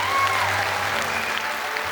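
Brief burst of loud audience applause for teachers being honoured at an International Students' Day event at USAT, dense clapping filling the hall for a couple of seconds.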